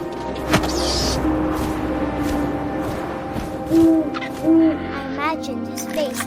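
Owl hoots in What Remains of Edith Finch: two low, round hoots about midway through, heard over a steady wind-like ambience and scattered game sounds, with a few fainter calls near the end.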